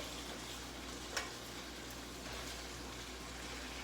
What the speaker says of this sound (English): it don't take long to do shrimp at all. But I just think it's just so much better when you saute them a little bit first